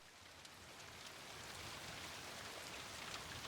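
Heavy rain pours steadily at night as a dense, even hiss that builds slightly and stays constant, without voices.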